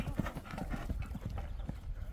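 A horse's hooves clip-clop in a steady, rhythmic series of close, clear knocks on hard ground, with no talking over them.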